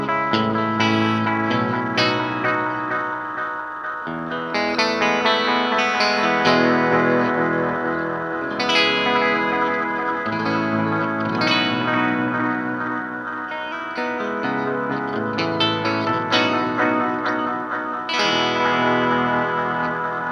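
Clean Fender Strat chords and single notes run through a Line 6 Echo Pro delay, each strum followed by decaying echo repeats that smear into a continuous, shimmering wash.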